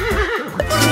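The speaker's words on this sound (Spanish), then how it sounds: "Veamos qué sonido hace la potranca." Neighing of a filly, a young mare, on a farm: a loud, close whinny with wavering pitch that rises and breaks, heard alone without talk.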